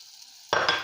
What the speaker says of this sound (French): On commence par mettre le beurre.